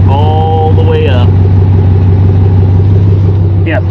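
A 2021 RAM 2500 Power Wagon with a modified large exhaust pipe rumbles loud and steady up close, a deep idle drone running throughout while a person talks over it.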